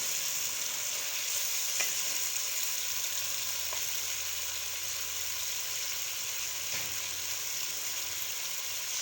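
Masala with fresh curry leaves, for chicken kachnar, sizzles and fries steadily in a pan while being stirred, with a few faint scrapes of the spoon over the continuous hiss.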